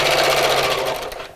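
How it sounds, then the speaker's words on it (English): Close and loud, a sewing machine runs fast along a channel near the edge of a fabric Christmas bag. It gives a brief buzzing whir that winds down at the end. "I'm sewing quite close to the edge of that channel"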